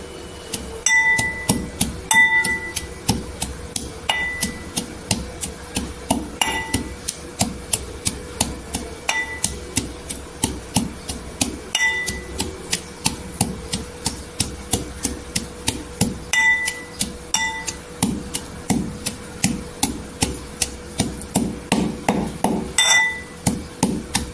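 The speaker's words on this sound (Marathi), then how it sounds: "इथे मिरची आणि लसूण ठेचून झालेली आहे" Green chilies and garlic are pounded into a coarse paste with a steady run of sharp, close knocks, repeated rhythmically for the whole stretch with a few brief pauses and no talk.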